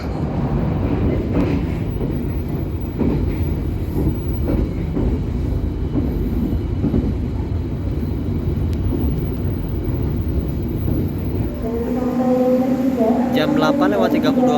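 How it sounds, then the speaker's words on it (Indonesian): Sancaka Utara executive-class train pulling into Bojonegoro station, a steady loud rumble of rolling stock throughout, with speech over it and a brief tonal horn or announcement tone near the end. "perjalanan kereta api Sancaka Utara telah tiba di stasiun Bojonegoro"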